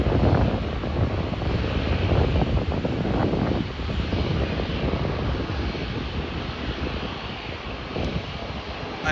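A small airplane departing Ponta Delgada Airport, its engine roar steady and fairly loud throughout, mixed with wind buffeting the microphone; no talking.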